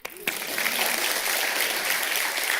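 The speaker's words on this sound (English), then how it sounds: "Applause again." An audience claps at a Royal Institution science lecture on quantum physics, a brief bump, then sustained, even applause from a roomful of people at moderate volume.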